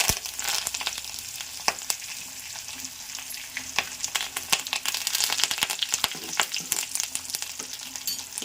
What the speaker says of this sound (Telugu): ముల్లంగికి తాలింపు ఎల్లుల్లిపాయలు వేసాను, మెంతులు ఇవన్నీ చూసారా, ఇవన్నీ వేస్తున్నాను.